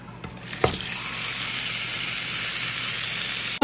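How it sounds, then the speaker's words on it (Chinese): Chicken breast, about 200 grams, sizzles in a hot pan, starting with a sharp burst and settling into a steady, close, moderately loud fry with no talking. "那我现在来稍微把它煎一下"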